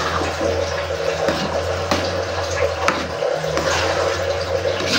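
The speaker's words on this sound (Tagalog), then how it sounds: "Tatagdagan pa natin ng tubig yan mga kapakner." Water pours steadily into a cooking pot, a continuous splashing gurgle close up with a few soft knocks.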